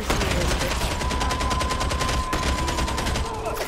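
Gunfire from gunner enemies in the video game Warhammer 40K: Darktide, a rapid, evenly spaced stream of loud automatic shots running almost without a break, close and dense.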